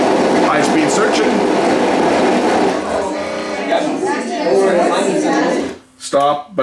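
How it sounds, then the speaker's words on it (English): A Sony EVS7000 Hi8 deck in high-speed search, playing garbled, fast-scrambled tape audio as a dense warbling wash that cuts out abruptly near the end, followed by a few brief mechanical clunks. "High-speed searching."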